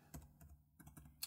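Arrow keys clack on the keyboard of a Framework 13 laptop, a handful of quick, light presses in an uneven rhythm, soft and close with no talking.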